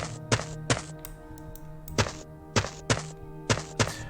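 Placeholder sand block sound effect in a video game level editor: short soft thunks placed at irregular intervals over a steady low background music bed, fairly quiet.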